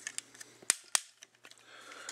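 Plastic leg joint on a Transformers Generations Combiner Wars Optimus Prime figure ratcheting, a run of sharp, close clicks, two louder snaps standing out among fainter ticks.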